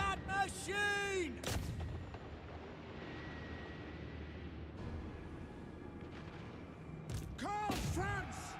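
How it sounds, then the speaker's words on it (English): Mortar artillery fires in a medieval-style strategy battle game, a sharp heavy thump near the start and another late, with clattering battle noise between and raised voices shouting commands over the fray. "Sigma! Mortar! Crank that machine!"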